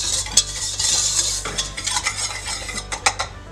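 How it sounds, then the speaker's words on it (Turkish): A utensil stirs starch and vanilla into magnolia pudding in a pot, steady scraping and clinking against the pot with a few sharper taps, close and fairly quiet. "nişastamı, vanilyamı koyuyorum ve karıştırıyorum güzelce."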